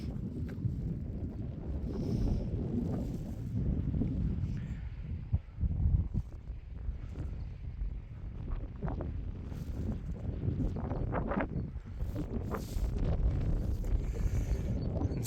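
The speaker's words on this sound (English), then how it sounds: "Still a bit windy." Wind blowing outside Dulyn Bothy, a steady low roar that buffets the microphone throughout with rumbling gusts and no pauses.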